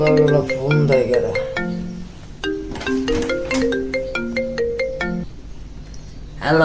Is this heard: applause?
no